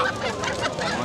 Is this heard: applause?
no